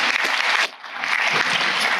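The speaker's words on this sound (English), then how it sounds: "Round of applause for these folks." Audience applause at a panel on investing that names Vermont's state treasurer, dense steady clapping from a room full of people, briefly dipping then swelling again, with no talk over it.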